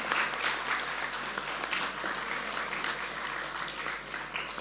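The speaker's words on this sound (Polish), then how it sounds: "Wielkie brawa dla naszej publiczności." Concert audience in a full hall applauding, an even, continuous wash of clapping from many people, moderately distant and steady throughout without fading.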